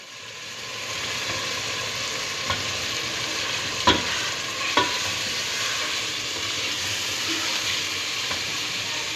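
Beef frying in oil in a pot as tomatoes are added, a loud continuous sizzle with a few small clinks and stirring knocks over the steady hiss.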